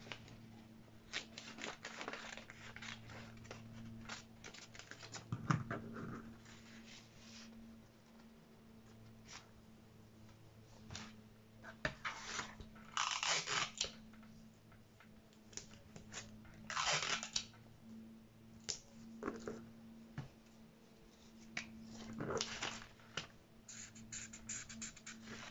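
Scissors cut out a paper pattern for an umbrella skirt dress. Quiet, irregular snips and crunchy paper rustles come in bursts over a low steady hum, with no talking.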